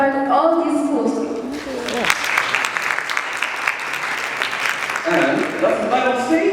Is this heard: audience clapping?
yes